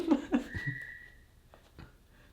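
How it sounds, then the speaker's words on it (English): A short, steady whistled tone from a person, fairly faint and somewhat distant, with a few thumps and scuffs around it. "He did whistle at us."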